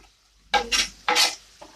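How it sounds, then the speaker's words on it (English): Leeks sweating in a covered pan for a fish pie, heard as two or three short bursts of close sizzling and stirring scrapes separated by brief quiet gaps. "basically I'm sweating them with the lid on to keep all the flavours inside"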